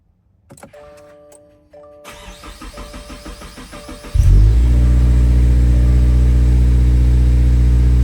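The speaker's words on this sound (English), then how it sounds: "I'm about to start the vehicle for the first time" A 2023 Subaru WRX GT is started for the first time: soft clicks and a brief electronic tone precede the cranking starter, then the engine catches and settles into a loud, steady idle rumble close by.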